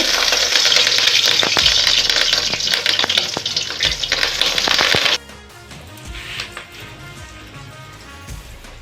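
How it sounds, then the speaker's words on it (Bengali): Pieces of rohu fish roe drop into hot oil and fry with a loud, dense sizzle and popping crackles that cut abruptly to a much quieter bubbling halfway through. "আমার সবগুলো ফেলে দেওয়া হয়েছে এখন আমি ভেজে নেব"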